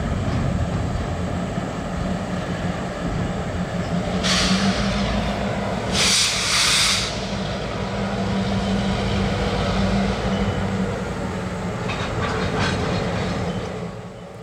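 A northbound freight train on the Housatonic Railroad rumbles and rolls steadily nearby with continuous wheel and engine noise, a couple of brief hissing bursts cutting through partway.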